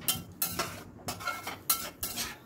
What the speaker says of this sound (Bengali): দিয়ে আবারও সব কিছু ভালো করে মিশিয়ে নিচ্ছি